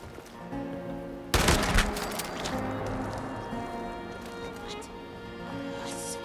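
A gunshot in Fallout 76 from a shotgun or hunting rifle, one sharp loud crack with a short tail over steady game ambience and background music, with some talk.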